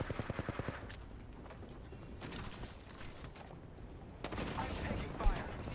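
Gunfire in the battle royale game Apex Legends: a rapid burst of shots at the start, then scattered bursts and impacts, with a louder cluster of shots near the end over a busy mix of game sounds and faint voice.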